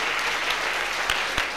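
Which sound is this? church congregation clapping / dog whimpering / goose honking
church congregation clapping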